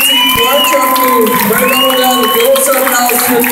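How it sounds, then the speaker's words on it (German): Boxing event crowd at a Gastro Boxen superfight, cheering and whooping loudly in a continuous dense roar throughout, with shouts rising above the din and applause mixed in. "ich bitte um einen riesigen Applaus für beide Kämpfe"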